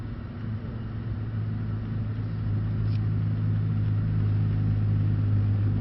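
A Mercedes-AMG C63s engine drones steadily while drifting, a low hum that rises slightly in loudness partway through and holds without clear revs.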